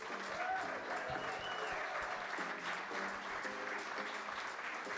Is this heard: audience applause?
yes